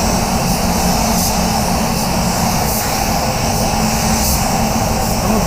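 A spray gun laying down a first coat of paint at 2 bar over primed areas, a steady loud hiss of compressed air and atomised paint running continuously without a break.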